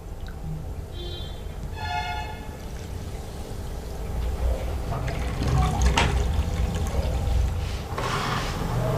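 Water pours steadily onto sugar for syrup for several seconds, a continuous splashing stream that swells louder midway, with faint clinks of a utensil near the start.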